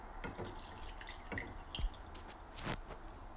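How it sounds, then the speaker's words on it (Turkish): Salted cooking water drains from boiled zucchini into a strainer, heard as soft, close splashes and drips with a few small clatters. "Şimdi suyunu süzeceğiz."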